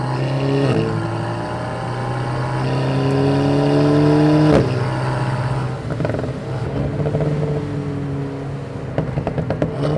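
A car circling a wet Nürburgring in track mode with a cold engine, its loud engine note rising and falling through gear changes and steady acceleration over constant road and tyre rush, heard from inside.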